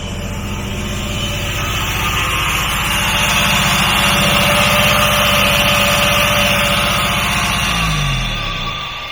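A free, long-unused truck's engine runs steadily without an exhaust, a deep, throbbing low rumble, swelling slightly louder midway before the revs drop away near the end.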